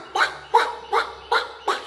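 A voice imitates a duck, giving five evenly spaced nasal quacks in quick succession, close and fairly loud.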